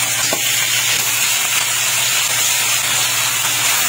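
Native chicken is sautéed with ginger, garlic and onion in a hot pan, giving a loud, steady, close sizzle and hiss that runs unbroken with no voices.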